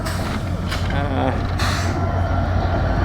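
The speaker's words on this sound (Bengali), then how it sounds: "এই যে ট্রেন চলে আসছে, এই ট্রেনটির জন্য আমরা অপেক্ষা করছিলাম রেলগেটে" The Kapotaksha Express, an intercity train hauled by an American-built diesel engine, approaches a rail level crossing in Bangladesh with a loud rumbling roar, while someone talks over the noise.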